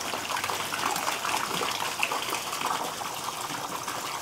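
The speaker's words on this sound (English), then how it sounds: "let's see what kind of flow rate we get with this little pump that came with the kit" Water gushes steadily from the small pump of a pond filter kit with a UV sterilizer, a constant close splashing flow with no other sounds.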